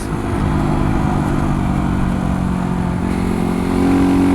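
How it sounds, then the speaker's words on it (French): A Beta 125 RR 125cc motorcycle engine revs steadily and pulls hard as it accelerates on the road, loud and close, with a brief shift in pitch midway. "Cette moto elle accélère à 100"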